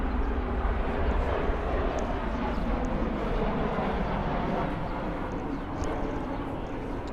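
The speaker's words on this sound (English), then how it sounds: "there'll be a plane going over" A steady, broad roar of an airplane passing overhead, loud and continuous, slowly fading slightly toward the end.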